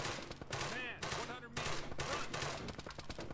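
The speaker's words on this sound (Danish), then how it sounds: "Machine gunner, 100 meters front." Bursts of machine gun fire crackle in Arma 3 gameplay, rapid volleys coming in clusters, fairly faint and mixed with voices speaking over the shooting.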